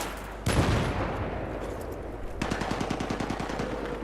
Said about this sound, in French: Ça c'est le pistolet.